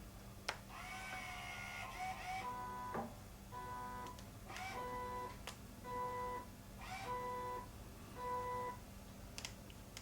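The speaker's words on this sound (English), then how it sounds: "the machine is going to move back and forward" Stepper motors on an iQ machine run an auto setup, whirring back and forth in short repeated bursts with faint beeping tones, quiet and close.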